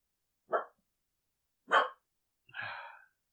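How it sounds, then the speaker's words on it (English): A pet dog gives three short separate barks spaced about a second apart, close and clear in an otherwise quiet room. "there's my dog."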